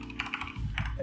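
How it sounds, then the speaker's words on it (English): Computer keyboard typing at a desk during a coding session, a quick run of light key clicks close to the mic, with no voices. "I'm just making a lot of mistakes while typing."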